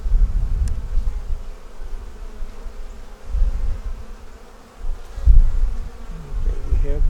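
Honey bees drone and buzz close by on a brood frame during a hive inspection, a continuous low hum that swells and fades with occasional louder passes.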